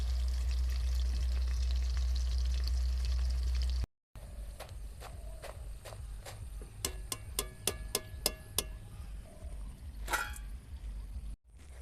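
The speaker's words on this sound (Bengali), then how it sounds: "কত সুন্দর ভাজা হচ্ছে দেখুন, আওয়াজটা কত সুন্দর হচ্ছে দেখুন" Chicken pakoras frying in hot oil give a steady close sizzle, interrupted by a brief gap, then a run of sharp clicks and taps with crackling bursts above the bubbling.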